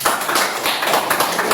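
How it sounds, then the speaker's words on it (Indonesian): A classroom of children claps their hands together after an Islamic religious education lesson, a dense, steady patter of many overlapping claps filling the room with no pauses. "Oke, kita tepuk tangan."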